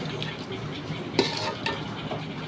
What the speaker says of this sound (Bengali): ভালো করে নেড়ে দিব